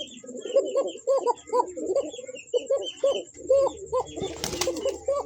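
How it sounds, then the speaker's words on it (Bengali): A male almond-coloured pigeon coos close by in a steady run of repeated rolling calls, and a short burst of flapping or rustling comes near the end. "ওরে কোকার ডাক"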